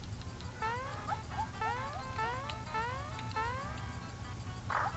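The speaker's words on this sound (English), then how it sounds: "Just quit your meowing." A cat in the video game Super Mario RPG: Legend of the Seven Stars meows repeatedly in rising, drawn-out calls, fairly close, over a low steady hum.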